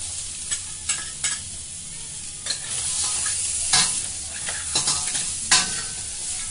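Crab with pepper is stir-fried in a wok, where a continuous sizzle runs under sharp, repeated scrapes and clanks of a spatula tossing the pieces, close and clear with no voices.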